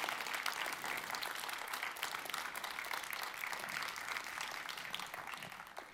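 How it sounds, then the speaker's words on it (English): Sustained audience applause at a media prize award ceremony, dense and steady throughout, fairly distant with no voices over it. "More rounds of applause,"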